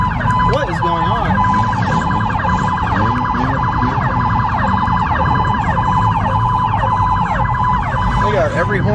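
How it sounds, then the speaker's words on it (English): A chorus of car horns at a car meet turning into a street takeover blares on and off in overlapping, sustained tones, loud and continuous throughout, with faint voices mixed in. "We got every horn going right now."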